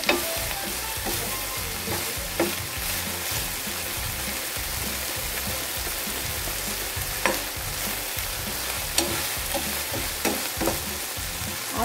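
Garlic fries in oil in a pan for Filipino bihon guisado, a dense, steady sizzle running throughout, close and loud, with occasional light clinks from stirring.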